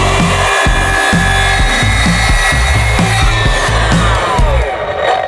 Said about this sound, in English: We have a small saw, so we're trying to figure this out.